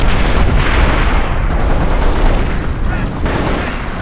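Grenade blasts in the war game Company of Heroes: loud, close bursts of explosive noise with crackling debris, several overlapping detonations in quick succession that fade slightly toward the end.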